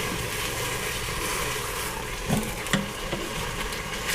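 Turkey tenderloin sizzling steadily in an Aicok pressure cooker set to browning mode, a continuous broadband hiss with a couple of brief louder pops or clatters midway, no talking.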